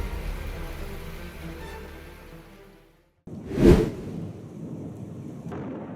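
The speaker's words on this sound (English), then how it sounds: "lightning flashes struck repeatedly, hitting the ground directly, accompanied by thunderous roars" Thunder from a lightning storm in Minneapolis, a single deep crack and roar that bursts out briefly after a moment of near silence, set against a background wash of rain.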